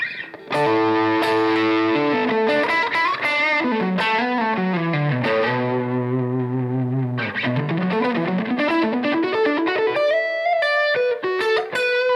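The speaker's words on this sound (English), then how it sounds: "If I turn the distortion down and level up." A heavily distorted electric guitar through two stacked drive pedals, a Boss DS-1 and a Strymon Iridium, plays a melodic riff with sustained notes and quick runs, loud and saturated, with no talking.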